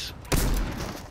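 Heavy turret gunfire in the video game Fortnite: a sudden loud burst of blasts kicks in after a brief lull and keeps pounding through the rest of the moment, close and dense.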